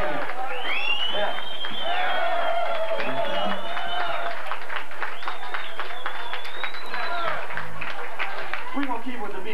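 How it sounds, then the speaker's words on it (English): A tavern crowd at a blues benefit show at Grossman's Tavern claps, whoops and cheers for the musicians, a loud, dense, sustained ovation with people shouting and chattering throughout. "How about a round of applause for all the musicians coming out here this afternoon to entertain you?"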